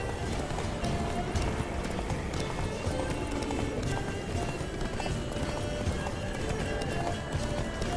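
Hooves pound in a fast, steady gallop as a horse runs in The Witcher 3: Blood and Wine, loud and continuous for the whole stretch, with game voices talking over it.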